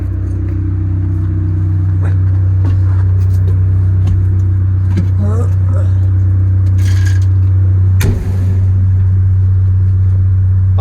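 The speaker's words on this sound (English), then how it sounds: "I'm just going to drag this little TD8 International out." Heavy machine dragging an International TD8 crawler tractor with a seized motor out of a junkyard, a steady loud diesel drone throughout with a brief clank near the end.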